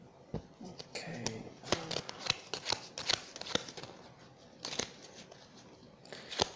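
A deck of Italian Scopa playing cards is riffled and split into piles, giving close, crisp flurries of card flicks and slaps across several seconds, with a voice speaking softly now and then.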